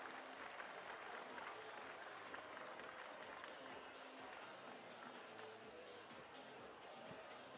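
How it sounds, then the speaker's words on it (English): Faint, steady applause and crowd noise from a distant audience cheering a climber at an evening youth lead-climbing national championship final in downtown Salt Lake City, Utah, with a dense wash of clapping that continues throughout. "Big round of applause for Ellie Wu on the left-hand side."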